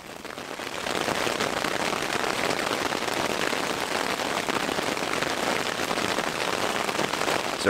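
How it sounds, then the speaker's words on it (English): Steady rain falls in the Canadian wilderness on a camping morning, a dense, even hiss of drops on surfaces that runs unbroken from start to finish with no voices. "and it's still raining this morning."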